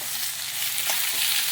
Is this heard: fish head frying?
yes